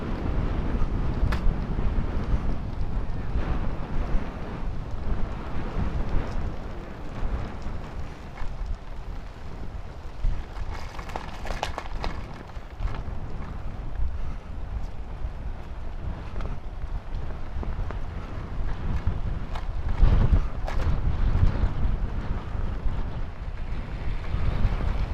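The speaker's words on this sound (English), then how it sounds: "Oh, strong wind." Strong wind buffets the microphone during a ride, a continuous low rumbling roar with gusty surges that swell and ease over about twenty-five seconds.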